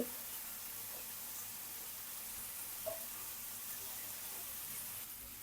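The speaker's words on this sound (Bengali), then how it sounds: "এই যে টমেটো ওখানে ছেড়ে দিলাম, এটাকে আমি হালকা আগে ভাজে নেব" Tomato pieces frying in a pan alongside fish and cauliflower, making a faint, even sizzle with a couple of soft pops throughout.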